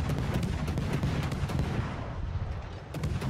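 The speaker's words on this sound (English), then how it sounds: "I'm going to be firing armor piercing ripple fire out of this thing" Rapid naval gunfire from the French cruiser Colbert's 127 mm guns firing armor-piercing rounds in the World of Warships video game forms a dense, continuous rolling barrage of booming shots, loud and close with no talk.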